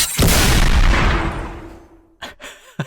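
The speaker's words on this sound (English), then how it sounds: "The big gunshot." Big gunshot sound effect within a song: one loud, booming blast that hits sharply and then decays in a long reverberant tail, followed by a few faint clicks and short musical blips as the sound fades.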